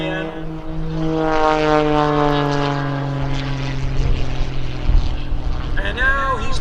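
A Pitts aerobatic biplane's propeller engine drones steadily through an airshow roll, loud and continuous with a shifting pitch as the aircraft maneuvers, under an announcer's voice.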